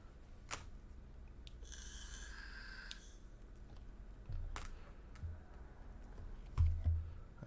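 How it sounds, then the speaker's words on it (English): Faint, sparse taps on a computer keyboard are picked up during an online team meeting, with scattered soft clicks and a short burst of quicker keystrokes over a quiet room hum. "I see typing."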